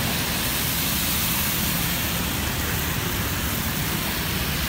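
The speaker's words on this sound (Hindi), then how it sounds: "बारिश की हल्की हल्की छींटे पा रही हैं" Steady light rain hisses in a dense, even wash of noise on a street in Central Jakarta, Indonesia, constant throughout with no voices.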